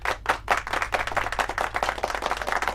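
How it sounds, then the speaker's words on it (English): A small audience applauds, a dense, steady patter of many overlapping hand claps that holds at an even, moderate level throughout. "Applause."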